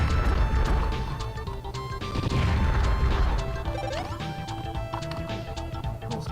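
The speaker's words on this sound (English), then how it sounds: "whenever you hear that blast sound, that means you got max firepower" Super Bomberman 5 gameplay sounds with crashing bomb blasts over busy game music and sound effects, a loud burst near the start, a second one a couple of seconds later, and a dense mix of chiptune tones that carries on afterward.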